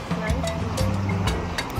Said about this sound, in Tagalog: may waves talaga siya na parang tunay na beach